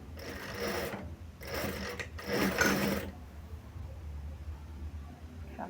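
A sewing machine top-stitching a sling bag runs in three close, steady bursts of rapid mechanical stitching, each about a second long, then falls to a low background hum.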